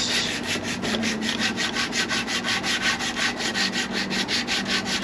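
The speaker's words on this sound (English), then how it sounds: "So I just took something flat with some sandpaper." Sandpaper wrapped around a flat block rubbed by hand over a cured surface, a steady rhythmic back-and-forth scratching of about four strokes per second, close and alone.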